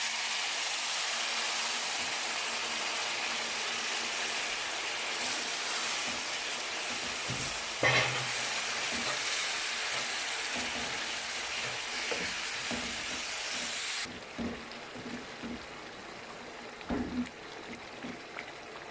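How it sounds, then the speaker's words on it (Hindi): Sugar syrup goes into semolina halwa frying in a pan, giving a loud, steady close sizzle and bubbling hiss that drops abruptly as the syrup goes in and is followed by softer stirring scrapes. "अब हम इसमें चाशनी डालेंगे।"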